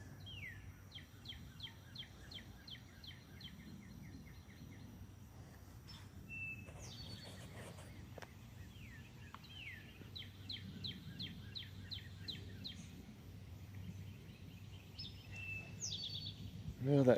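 Birds call outdoors in a garden with a magnolia tree, thin repeated chirps and tweets coming in short bursts, fairly faint over a soft low background hum, and no voice is heard.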